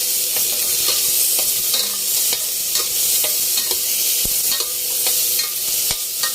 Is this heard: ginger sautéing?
yes